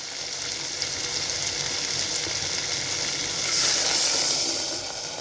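Water poured into a frying masala khichdi mixture with peanuts raises a steady, even sizzle and hiss that swells slightly near the end, alone without talk.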